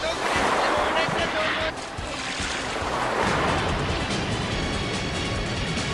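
A waterfall pours on a river, a loud, steady broadband rush of water that eases slightly after a few seconds, with voices talking over it.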